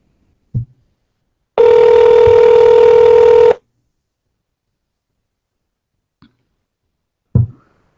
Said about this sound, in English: Let us call her again.